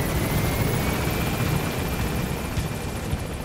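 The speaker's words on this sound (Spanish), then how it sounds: "estás en el helicóptero medio hora así, mirando pasar el tiempo" Helicopter in flight in the video game Metal Gear Solid V: The Phantom Pain, a loud, steady rotor and engine drone with a rough churning texture that fills the whole stretch, without speech.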